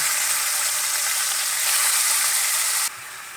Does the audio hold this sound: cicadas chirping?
no